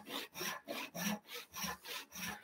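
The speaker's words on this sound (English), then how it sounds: "this is traditional Western style dovetail or tenon saw. It cuts push stroke." A traditional Western-style dovetail or tenon saw cuts wood on the push stroke, giving about eight steady, even rasping strokes close up and fairly quiet, with no speech.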